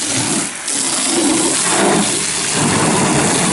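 Pressurized water blasts from a high-flow washer onto a truck, a steady loud roaring spray that briefly dips before resuming, with no talking.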